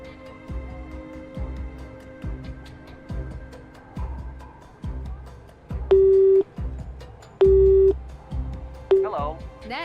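A phone line rings during a call in the video game Nancy Drew Midnight in Salem: steady electronic tone bursts repeat at an even pace, joined by a few longer, louder beeps near the end.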